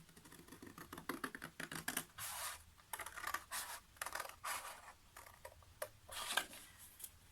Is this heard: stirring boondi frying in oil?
no